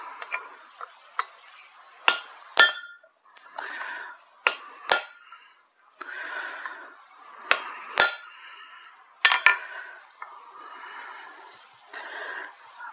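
A blacksmith hammers to open the eye of a single-bevel broad axe forged from scrap metal, sharp ringing metallic strikes landing in irregular pairs and groups, close and loud, with quieter ambient noise between blows.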